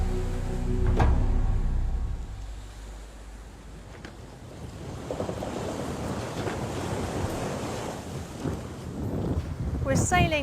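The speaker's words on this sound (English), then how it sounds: "We're sailing towards the old trading port of Zanzibar" A boat under sail near Zanzibar's old trading port, with a steady wash of sea and wind against the microphone, a knock early on and rising water noise toward the end, close and fairly loud.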